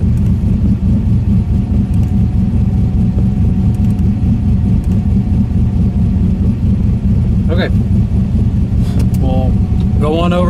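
A performance car engine runs on a dynamometer on pump gas, a loud continuous mid-pitched rumble holding steady throughout, with a couple of short sharper bursts late on.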